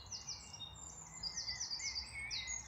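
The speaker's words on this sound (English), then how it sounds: "Hark at those birds." Birds singing outdoors on a country walk, a few high chirps and trilling phrases repeating from a moderate distance over faint background rumble, quiet and without talk.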